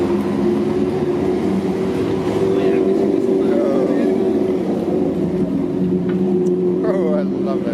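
Motorcycle engines rumble and rev at a motorcycle week rally in Mazatlan, a loud continuous low drone with rising revs, close by and steady throughout.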